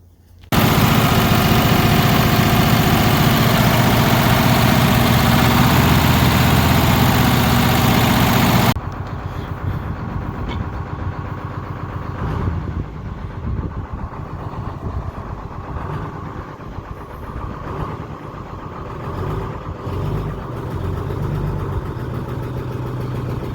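The silversides engine of a USS Texas vehicle runs on its first start, opening with a loud steady roar that drops to a lower rumbling idle after about nine seconds and continues to the end.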